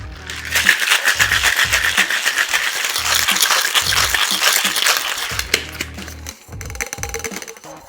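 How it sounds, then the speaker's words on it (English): Ice rattles hard inside a cocktail shaker with orange juice, a fast continuous rhythmic shaking that runs several seconds before slowing and stopping. "Now I add my ice and shake for about 10 to 15 seconds."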